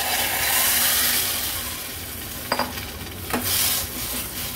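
Cooked moong dal stirred into a sizzling tempering for a Maharashtrian varan, a loud steady frying hiss with a few sharp clicks of a spoon against the pan.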